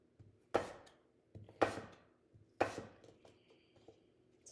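Knife chopping a crisp apple into small cubes on a cutting board, three sharp close chops about a second apart with softer taps between.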